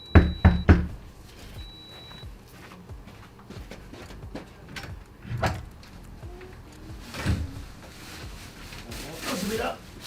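Someone knocks on a quarantine hotel room door for meal delivery: a quick series of loud, close knocks opens the sequence, followed later by softer thuds, with a person talking in between.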